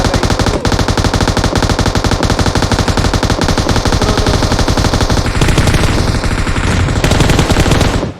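Rapid automatic gunfire rattles almost nonstop in PUBG Mobile, loud and close, a dense stream of shots with one brief gap early and slightly shifting tone near the end before cutting off.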